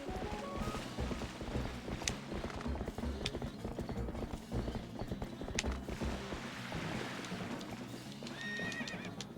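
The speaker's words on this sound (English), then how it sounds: "horse clomps would echo like crazy" A horse in Zelda: Twilight Princess clomping along in a quiet valley with rhythmic clip-clop hoofbeats, plus occasional whinnies and creaky mechanical game sounds, moderately quiet and unbroken by talk.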